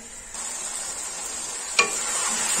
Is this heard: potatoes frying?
yes